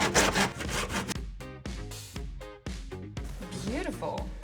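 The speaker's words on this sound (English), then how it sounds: "And now we can just make the cut." Rhythmic back-and-forth strokes of a hand saw rasp through wooden skirting board, close and fairly quiet, with uneven pauses between strokes.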